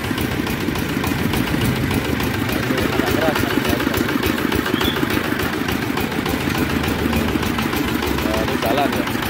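A Firman FTL 1000 PDE rotary tractor engine runs at a steady, fast, chugging idle, loud and close, with a person talking over it.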